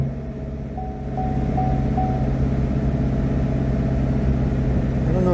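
A 2017 Chevy Camaro with the 6.2 V8 runs at a steady high idle. The engine drones continuously as a low rumble with a faint tonal whine, and the level rises slightly after the first second.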